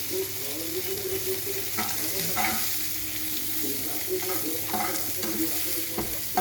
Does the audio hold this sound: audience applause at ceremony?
no